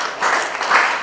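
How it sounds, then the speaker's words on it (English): An audience in a Class 8 chemistry debate classroom breaks into brief applause, a dense wash of clapping hands lasting about a second. "Please clap for Ayush."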